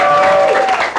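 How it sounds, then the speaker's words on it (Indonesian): A church congregation cheers and applauds for God, a dense, loud burst of clapping and shouting that fills the whole brief moment and fades slightly at the end. "Berikan sorak-sorai buat Tuhan yang dahsyat."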